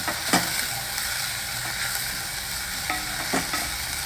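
Onions fry with curry leaves, turmeric, salt and chili powder in a pan, a steady close sizzle broken by several sharp spoon scrapes and clicks of stirring.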